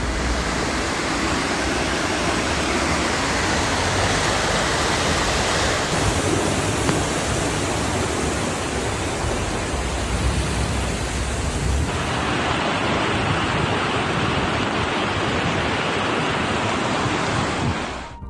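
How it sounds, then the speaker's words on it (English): Heavy storm waves pound the harbour at Stonehaven, south of Aberdeen, Scotland, in a dense, continuous roar of surf and spray, with wind buffeting throughout and no voices. "Large waves from the storm hit the harbour Stonehaven, south of Aberdeen, Scotland, on Friday"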